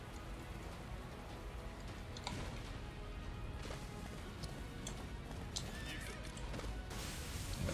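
A horse neighs and its hooves clip-clop in the A.O.T. Wings of Freedom video game, heard against dense, steady rain-like game noise, with the whinny standing out briefly near the end.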